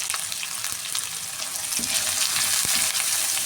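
Sliced shallots, onion, curry leaves and green chillies sizzle in hot oil for a chicken curry, a steady bright crackle with occasional stirring scrapes, close and alone without talk.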